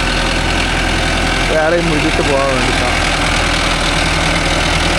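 A Mahindra Arjun Novo 605 DI tractor engine, working with a rotavator in a field, idles in a steady low throb while someone speaks briefly over it.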